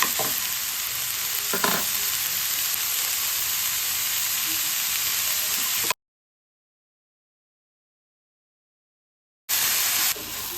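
Tomatoes with coriander and salt sauté in a pan for radish chutney, giving a steady close sizzle with stirring. The sound cuts to silence midway, then the sizzle returns.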